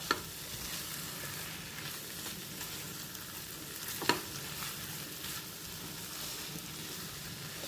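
Chicken sukka frying in a pan with ground pepper and curry leaves, a steady close sizzle with soft stirring scrapes throughout and one sharp utensil clink midway.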